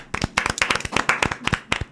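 A small TV studio audience applauds at the start of a talk show, sparse individual claps in an uneven, scattered rhythm, close and fairly crisp, with no talking.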